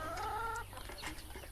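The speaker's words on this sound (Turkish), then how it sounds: "Paçalı bir köylü tavuğumuz var burada." A feather-footed village hen gives a brief tonal cluck-like call, then softer scratchy farmyard noise follows; close by, no talking.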